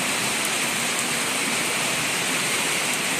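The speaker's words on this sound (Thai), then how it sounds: "ฝนตกแล้วตอนนี้" Steady, dense hiss of rain pouring down in Nong Khai province, Thailand, continuous and fairly loud with no pauses or voices.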